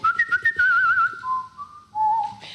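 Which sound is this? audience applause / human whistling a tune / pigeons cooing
human whistling a tune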